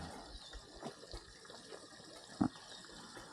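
Water runs into a livestock water trough on a frosty morning at a pig farm, a faint, steady trickle and gush with a brief louder splash, heard at a distance.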